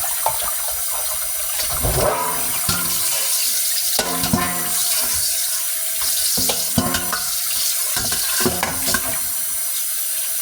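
Tap water runs steadily into a sink while fumbwa leaves are washed to remove dirt and sand, with splashing and sloshing bursts as the leaves are handled, close and continuous with no talking.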